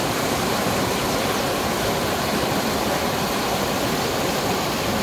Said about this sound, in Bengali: দেখুন কি সুন্দর জল বয়ে যাচ্ছে। আমরাও এখানে জলধারার শব্দ শুনে কিছুটা সময় কাটালাম।